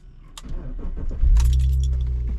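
Keys jingle briefly, then a BMW E46's engine cranks and catches, settling into a loud, steady idle close by.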